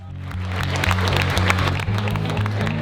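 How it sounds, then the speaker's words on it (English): Wedding reception guests applaud steadily for the maid of honor, a dense clapping wash over loud background music with a steady beat, sustained throughout without a break. "give her a round of applause"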